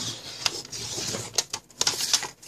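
A scoring tool runs along paper for a mini album, leaving a few short, sharp scraping and tapping strokes. They sound faint and close, with quiet pauses between them.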